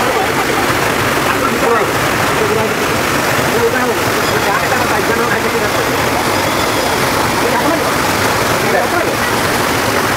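Water rushes and splashes steadily at the Baba Panchalingeswar temple, a loud, continuous broadband flow like a stream or small waterfall heard close up, with voices faintly mixed underneath.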